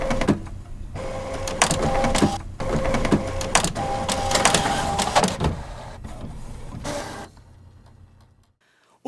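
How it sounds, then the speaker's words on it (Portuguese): A 3D printer fabricates a prototype with rapid whirring stepper-motor buzzes and mechanical clicks in uneven bursts, loud and close, then falls quiet near the end. "o projeto é enviado à impressora 3D, que com grande precisão fabrica o protótipo de maneira muito rápida"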